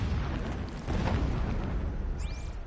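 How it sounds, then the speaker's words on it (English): Distant bombing explosions in Horizon Zero Dawn rolling as a continuous low rumble with heavy booms, ending with a short high whistling streak, with no talk over it. "Where's all this bombing coming from?"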